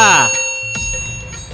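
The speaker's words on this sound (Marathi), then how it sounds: "चॅनलला सबस्क्राईब करा आणि घंटी नक्की वाजवा" A bright bell chime rings out at the start and fades, followed by quieter tonal tails and a couple of soft knocks.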